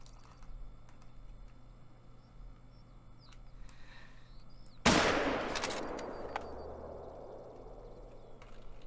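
A single loud rifle shot from a .270 in theHunter: Call of the Wild, a sharp crack at mid-clip with a long rolling echo decaying across open hills, after quiet ambient outdoor background.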